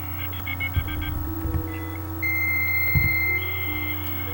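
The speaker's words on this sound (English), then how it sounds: "That's the sound of AOL." Emulated AOL dial-up modem connection from the game Digital: A Love Story: a dial tone and rapid touch-tone dialing beeps, then steady electronic handshake tones, fairly quiet and with no voices.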